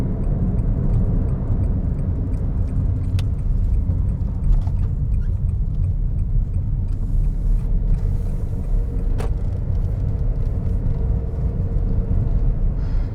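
A 2013 Honda N-One Premium L kei car engine running steadily at just over 3,000 rpm while driving on narrow roads, heard from inside the cabin as a continuous low drone and rumble with a few faint clicks.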